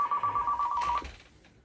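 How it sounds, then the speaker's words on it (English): A telephone rings with a steady electronic warbling tone for about a second, then cuts off, leaving a faint decaying tail; moderately close and heard alone without talk. "Do I answer that phone or not?"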